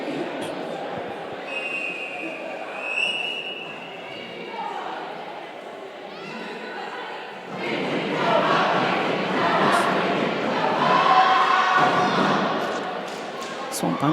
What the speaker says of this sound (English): Gotta love a good cheer and a chant